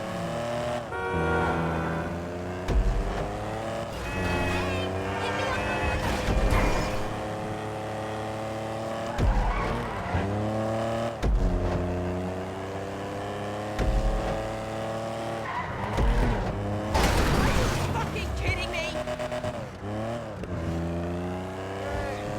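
Classic car driving in GTA 5 Online, with a loud continuous engine drone and rising, falling revs across gear changes, plus brief tire squeals and skids between the engine sweeps.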